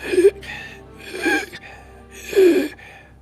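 A human voice imitates an injured man's labored breathing: three strained, raspy gasping breaths spaced about a second apart, close and fairly loud, with quiet pauses between.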